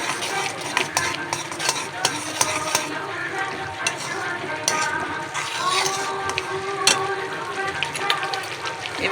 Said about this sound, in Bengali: দিয়ে দেবো হলুদ। নাড়িয়ে নেব এটাকে।